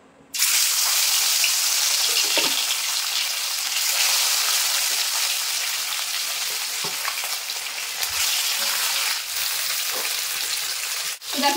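Fish sizzling in hot mustard oil in a wok, a loud, steady frying hiss that fills the whole stretch with small crackles and spatters, no talk over it.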